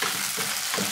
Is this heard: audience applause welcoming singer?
no